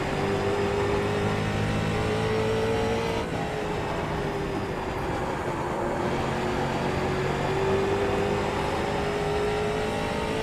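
A street stock race car's engine roars loud and continuous in an iRacing sim at South Boston, its pitch dipping and then climbing again as the throttle comes back on out of a corner.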